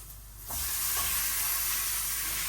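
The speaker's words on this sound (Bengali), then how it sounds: "এই যে আমার পেঁয়াজটা ভাজা হয়ে গেছে এখন এই যে মাছটা দিয়ে দিলাম" Hot oil sizzling loudly as fish is dropped into a pan of fried onions, a sudden crackling burst that settles into steady, close frying hiss.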